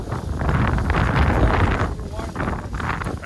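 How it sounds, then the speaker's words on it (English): Strong outdoor wind buffets the microphone in a continuous low rumble that swells and fades, loud and close, at a track where trucks are being compared. "Trying to block the wind here, it's tough."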